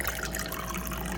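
Tap water fills a pet's water bowl in a home, a steady close rush of running liquid that lasts the whole short moment with no pauses and no talking.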